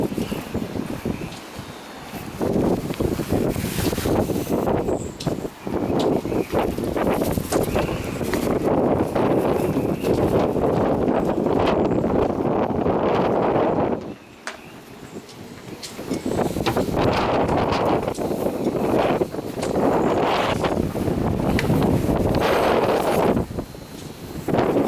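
Wind gusting at Seaview Harbor Marina aboard a Hunter 466 sailboat, a steady loud rushing roar with microphone buffeting that drops briefly midway, then surges back, with no speech.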